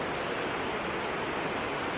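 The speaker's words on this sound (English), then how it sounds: "I think that's a substantial waterfall over there." A substantial waterfall at Umpqua Hot Springs, heard as a steady broadband roar of falling water, continuous and even, with no voices.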